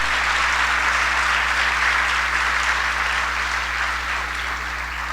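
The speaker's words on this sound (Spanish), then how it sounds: "Démosle ese aplauso al Rey." A church congregation applauds during a Sunday sermon, a steady, dense wash of clapping that runs the whole time over a low, constant hum.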